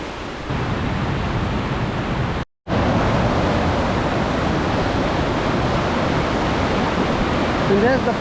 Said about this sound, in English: And there's the first river crossing.